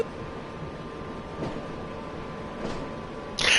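A train rolls past in the Train Sim World 6 game on the Preston–Crewe line, a steady rumbling drone with faint clatter and a brief louder burst at the end, no talking.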